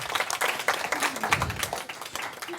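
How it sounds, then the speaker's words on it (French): An audience applauds a speaker named Théa after her talk, a steady wash of many hands clapping together, dense and even, with faint voices mixed in. "Est-ce qu'on peut applaudir Théa encore?"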